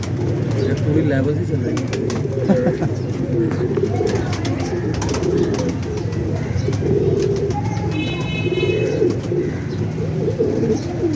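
Pigeons at a rooftop pigeon-racing club coo in a low, continuous murmur close by, with someone talking over them and a few brief higher chirps.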